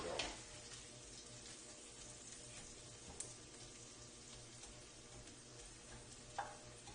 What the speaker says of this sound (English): And now I'm going to make some noise here. We're going to soften up the onions a little bit.